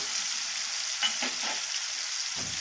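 Cut byadgi chillies hit hot oil in a dal tadka, giving a continuous bright sizzle with a few soft stirring clinks, close and alone.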